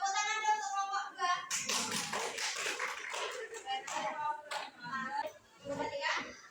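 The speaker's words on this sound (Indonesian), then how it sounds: "tepuk tangan dulu untuk kelompok 2" Students in a classroom clap for a presenting group, a short burst of scattered hands in the middle, framed and overlapped by lively voices talking.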